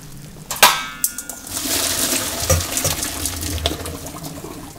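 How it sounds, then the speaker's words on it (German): Boiled asparagus pieces are poured from a pot into a metal strainer in a sink, giving a loud rushing splash of water with a few clanks of cookware, then a steady draining flow. "Das Ganze werden wir jetzt abseihen."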